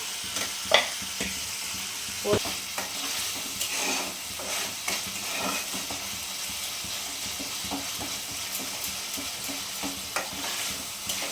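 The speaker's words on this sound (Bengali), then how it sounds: "জলটা একদম দিব, দিয়ে একটু কষবো যেন না লেগে যায় কলাতে।" Ground spice paste being sautéed with water in a pan for a Bengali chara pona fish curry, with steady soft sizzling and repeated scraping and stirring clinks throughout, no talk.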